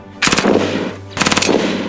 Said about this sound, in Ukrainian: Будемо стріляти